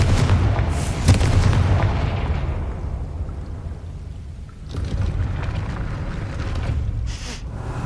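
The Confringo fire spell from Hogwarts Legacy goes off as a loud, booming blast that rolls and rumbles for several seconds before a second surge of crackling fire, with no talk over it.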